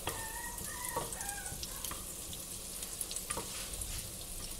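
Butter melting in a frying pan over gentle heat, a soft continuous sizzle with faint scraping as it is stirred, quiet and close.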